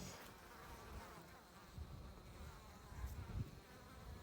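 Bees buzz steadily around a package beehive at close range, with a constant faint droning hum and occasional louder passes near the microphone.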